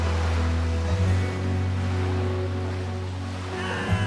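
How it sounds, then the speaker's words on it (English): Big waves surging around a boat on rough water as the wind howls, a steady low churning wash with a deep rumble underneath, swelling slightly near the end. "The wind started howling and the waves were really big"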